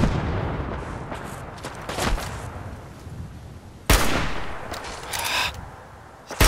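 Gunfire in the video game Fallout 4, sharp loud shots spaced irregularly with a few heavier blasts, ringing through a noisy battle backdrop.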